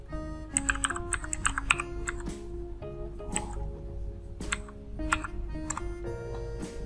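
Computer keyboard typing on an office PC while a VLAN is set up: a steady run of close, crisp key clicks in quick irregular rhythm, with no talking.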